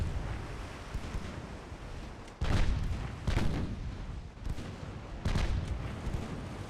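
Six-inch naval guns firing from a small gunship in Ultimate Admiral Dreadnoughts: three heavy, spaced booms, each with a rolling tail, over a constant wind-and-sea rumble.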